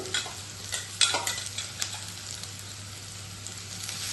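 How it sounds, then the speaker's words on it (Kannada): Green chili paste fries in hot oil, a continuous crackling sizzle with spoon stirring and a few sharper scrapes near the start, moderately loud and without talk. "ಇದು ಎಣ್ಣೆಲೇ ಫ್ರೈ ಆಗಬೇಕು ಹಸಿ ವಾಸನೆ ಹೋಗ್ತೈತಿ"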